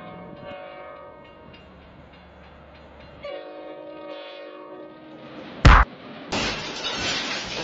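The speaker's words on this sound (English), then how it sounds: "The Amtrak train is coming so fast it's gonna hit me." Amtrak train horn sounding in sustained harmonic blasts, one tone giving way to a second, followed by a sharp loud bang and a burst of harsh crashing noise near the end.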